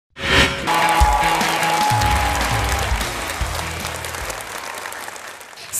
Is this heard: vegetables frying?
no